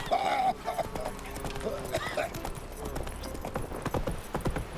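Roach, a horse in The Witcher 3, gallops with a steady rhythmic clip-clop of hooves in Skellige, the hoofbeats close and clear, with a brief whinny-like sound and a voice speaking near the start.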